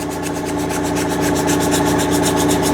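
A 1929 Chrysler body is sanded by hand with 100 grit sandpaper, giving a steady, close rasping scrape in quick repeated strokes with no talk.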